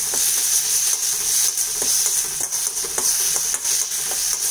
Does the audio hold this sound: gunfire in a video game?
no